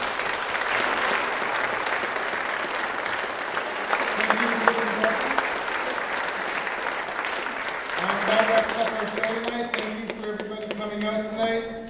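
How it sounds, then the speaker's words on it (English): A large audience at a Ukrainian dance event applauds with sustained, dense clapping across the whole stretch, with speech and some tonal sounds mixed in toward the end. "So another big round of applause."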